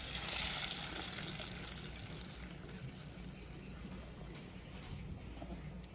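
Tomato puree for homemade tomato soup drains through a strainer as a steady, fairly loud liquid trickle and splash, continuous for the full stretch with no voices.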